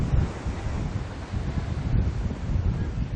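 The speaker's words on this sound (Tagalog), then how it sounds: "mas malakas na ang ampas ng alon at ang hangin dito sa bahaging ito ng Amaya 5 sa Tanza, Cavite" Strong storm wind and waves on the coast at Tanza, Cavite. A steady, heavy roar of gusting wind buffets the microphone over a low churning surf, continuous and loud throughout.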